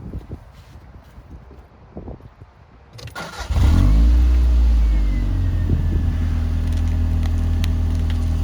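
A JDM car with four-wheel steering starts up after a quiet stretch, its engine settling into a loud, steady idle and low drone as it pulls away and turns, close by and alone without talk.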